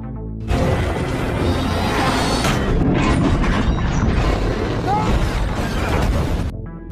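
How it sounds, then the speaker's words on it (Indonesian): A film truck crash: a loud crash and booming explosion, with metallic debris and rumbling noise sustained for several seconds, close and intense. "akhirnya mereka bertiga berhasil mencegah truk Owen hingga terpental dan meledak, lalu menimpa mobil Owen."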